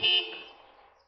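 A car horn gives one short honk that sounds loud at first and then fades quickly, with no talk over it.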